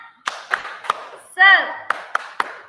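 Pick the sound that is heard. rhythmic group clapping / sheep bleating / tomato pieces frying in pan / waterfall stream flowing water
rhythmic group clapping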